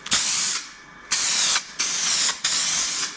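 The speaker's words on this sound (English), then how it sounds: "I paint them again just with the red Spray Max primer" Four sharp bursts of red Spray Max aerosol primer hiss in quick succession, each lasting about half a second, close and loud with brief pauses between.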